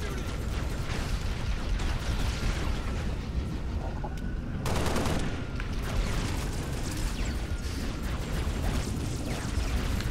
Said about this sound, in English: Bad guys, they're shooting.